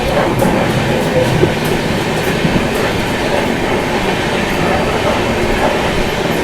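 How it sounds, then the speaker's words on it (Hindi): Rajdhani Express rolling through darkness on a ghat section: a steady, loud rumble of wheels on rail with faint rhythmic clatter, heard from inside a first AC coach. "ऐसे ही अंधेरे में अपनी ट्रेन आगे की ओर बढ़ रही है अपने सफ़र में।"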